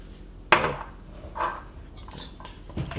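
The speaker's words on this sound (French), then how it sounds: "On peut hacher un petit peu les fruits secs et puis découper les dattes surtout qui sont plutôt grosses" A knife chops dried fruit and large dates on a board, giving a few separate knocking taps spaced out over a few seconds, close and moderately loud.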